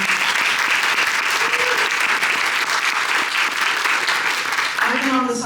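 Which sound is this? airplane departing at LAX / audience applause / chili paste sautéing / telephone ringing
audience applause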